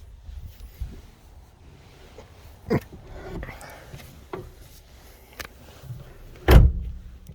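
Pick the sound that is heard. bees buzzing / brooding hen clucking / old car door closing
old car door closing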